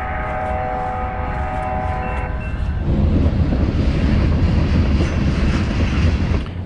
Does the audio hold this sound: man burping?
no